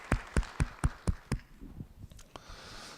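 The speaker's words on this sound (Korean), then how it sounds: "우리 받으신 주님께 감사의 박수." Six sharp, evenly spaced claps ring out close by at a church service, followed by a few softer, scattered claps fading into quiet.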